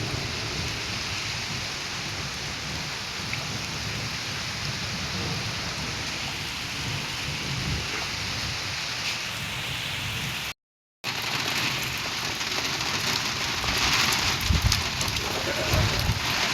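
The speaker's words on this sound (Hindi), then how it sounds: "आपको बिजली कड़कने की आवाज़ सुनाई दे रही होगी।" Steady heavy rain pours in a village storm among banana trees, with rumbling thunder beneath and wind. The roar is loud and continuous, with a brief dropout partway through.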